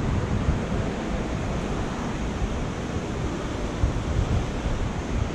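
Polluted river water rushing past an abandoned factory, a loud, dense, steady roar of flowing water with some wind rumble, no voices.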